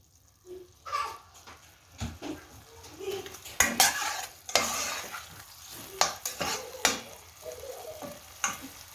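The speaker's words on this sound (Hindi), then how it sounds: "अब हम इसमें केचप को थोड़ा सा भूनेंगे वेजिटेबल्स के साथ" Ketchup stir-fried with vegetables in a pan: soft sizzling under repeated scraping and clinking of a utensil against metal, irregular strokes at close range with no talk.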